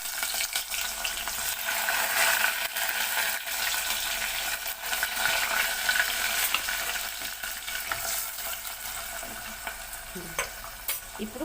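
Onions, mustard seeds and fenugreek seeds frying in hot oil in a pan for a fish curry, a loud continuous sizzle with stirring scrapes and spattering crackles, close by with no talk.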